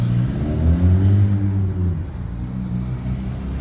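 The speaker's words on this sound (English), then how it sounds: "And we'll finally be away from this noisy traffic." Steady low rumble of passing road traffic on a noisy street near a commuter rail station in Sainte-Anne-de-Bellevue, one car engine swelling louder then easing off, continuous and fairly close.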